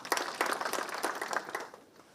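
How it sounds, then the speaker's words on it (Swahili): Applause from an assembled audience greeting a newly named National Assembly majority leader, scattered claps rising and swelling through the clip before fading toward the end, fairly distant. "Pigeni makofi"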